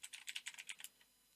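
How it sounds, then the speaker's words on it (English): Fast, light clatter of keys on a computer keyboard as code is typed, a quick run of close, soft keystrokes lasting under a second before falling quiet. "Next, we're going to type using namespace"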